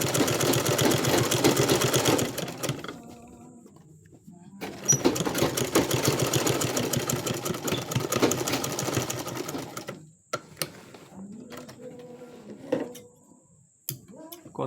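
A sewing machine stitching a trouser welt pocket runs in two long bursts of fast, rattling needle strokes. Short pauses separate them, and scattered clicks and handling knocks follow as the stitching stops.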